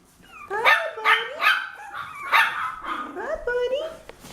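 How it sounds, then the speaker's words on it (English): Parti-coloured puppies bark and yip in a playpen, a rapid series of high, excited barks and whimpers close by, repeating irregularly over a few seconds. "Do you hear those doggies barking?"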